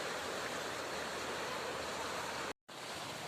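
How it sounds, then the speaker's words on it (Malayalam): A stream running full of muddy water after rain, heard as a steady, broad rushing wash with a brief dropout near the end. "തോട്ടിൽ കൂടെ കുറേ നിറച്ച് വെള്ളമായിക്കുണ്ട്"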